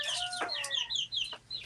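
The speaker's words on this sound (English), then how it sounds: "That's Daddy Rooster out there crowing" A rooster crows outdoors near a cabin in the woods in early morning, its call rising and breaking through other clucking and chirping bird sounds, loud and fairly close with no talk.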